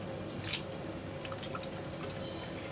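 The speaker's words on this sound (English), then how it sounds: "rinse in cold water" Cooked wonton noodles rinsed under cold water, a steady quiet trickle with soft drips and wet squishes, close and continuous, no talking.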